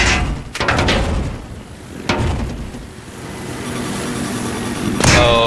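An enemy bomb blasting in Battlefield 4 on the Paracel Storm map, loud booming explosions in a dense roar of game noise, with a sharp burst near the start and another close to the end.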